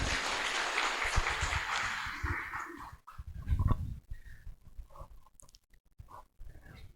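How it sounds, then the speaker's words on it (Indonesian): Audience applause welcoming a speaker onto a talk-show stage at a Buddhist temple event, a dense, steady clatter of many hands that fades and thins out after a few seconds, leaving scattered claps. "dengan tepuk tangan yang meriah kita sambut Romo Suhendri"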